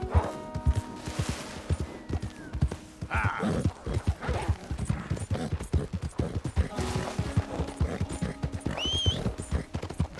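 Horse hooves clip-clop in a steady walking rhythm in Red Dead Redemption 2, with a neigh near the end, fairly close and moderately quiet.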